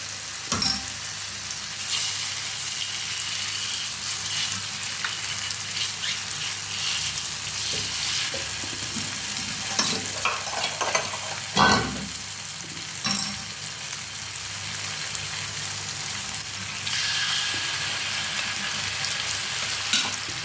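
Egg with onion and garlic chutney sizzles steadily in a pan, with scraping stirs and spatula clinks now and then. The frying is close and continuous, and no one speaks over it.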